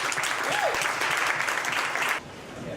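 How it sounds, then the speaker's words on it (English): An audience gives a warm, steady round of applause to welcome speakers Clinton and Jessica, a dense clapping wash that cuts off sharply near the end, leaving quieter room noise. "give a very, very warm round of applause for Clinton and Jessica"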